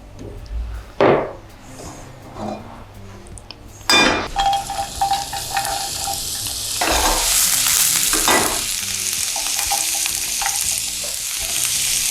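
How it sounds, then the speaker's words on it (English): A tofu omelette fries in coconut or olive oil in a hot pan, with a spatula stirring and scraping at the start and then a steady, close sizzle that keeps building, with no talk. "So hot pan, coconut oil or olive oil, actually, whatever you like."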